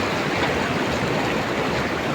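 Close, steady rushing of the Arun River's current fills the moment with an unbroken loud water noise and no voices.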